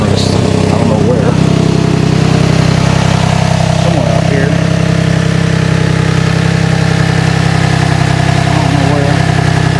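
A 2006 Toyota Sienna engine runs steadily with an exhaust leak, a loud continuous low drone throughout with someone talking briefly over it.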